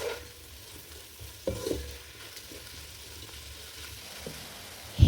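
Beaten eggs being stirred with butter in a frying pan for butter chicken fried rice, a low sizzle with occasional scraping strokes and a sharp clatter at the end, no voices.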